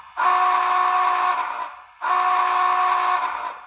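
Two long steam-style whistle blasts from an MTH HO scale Big Boy model locomotive, each sustained and fairly loud with a slight electronic buzz from the tender speaker, separated by a brief pause.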